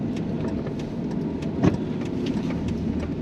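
Steady low rumble of a Viper-powered 510 hp Dodge Ram SRT-10 truck cruising gently through town, heard from inside as a constant engine and road drone with a brief thump midway and no talk.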